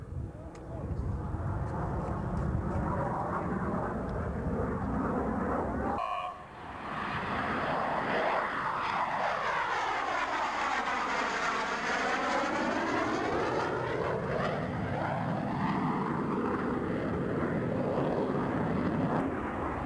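Military aircraft flying a looping maneuver at an air show at Quonset ANGB: a loud continuous engine roar that briefly dips, then swells again with a sweeping pitch change as the plane passes, with a commentator talking over it.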